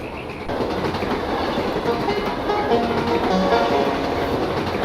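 A video game train rolls steadily along its line with continuous clickety-clack rumble and a few faint tonal squeals, loud and close with no talking.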